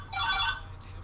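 A phone rings during a Call of Duty: Modern Warfare 3 Survival Spec Ops session, a single bright electronic ringtone burst lasting about half a second, moderately loud over a low background hum, with no one talking.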